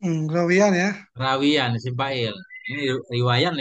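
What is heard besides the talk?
None of the usual background noises is heard.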